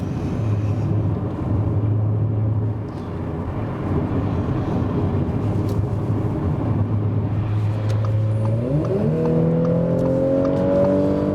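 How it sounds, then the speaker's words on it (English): An Audi S5 Coupé cruises with a low steady engine drone, then accelerates hard near the end, its pitch climbing through rising tones as the revs build. "Wow. Wonderful acceleration. And I touched the throttle not so much."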